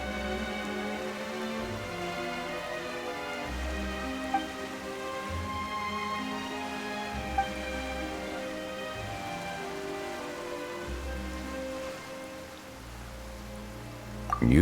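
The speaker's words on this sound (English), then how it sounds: "Why is it raining all of a sudden?" Steady rain patters on a surface in an even, continuous hiss, with faint separate drops now and then, under a soft, sustained tonal backdrop.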